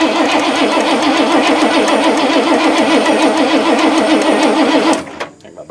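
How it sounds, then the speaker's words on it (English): A 1986 Ford F150 engine cranks steadily with a fast, even rhythmic churn, loud and close, for about five seconds without catching, then stops abruptly. "I'm not even sure it'll actually crank over, so let's give that a try first."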